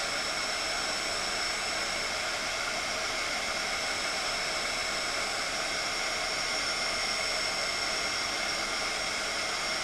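Heat tool blows a loud, steady, hissing roar of hot air while melting embossing powder on a paper card, continuous and unbroken for the full length with no voices.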